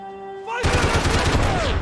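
Gunfire erupts in Max Payne 3, a dense burst of loud rapid shots and explosive blasts that abruptly cuts in after a quieter tonal stretch and keeps hammering to the end.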